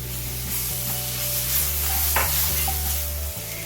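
Chopped tomatoes are stirred into a sizzling spice mix for a butter egg masala, giving steady frying hiss with a few soft spoon scrapes and knocks against the pan, close and continuous.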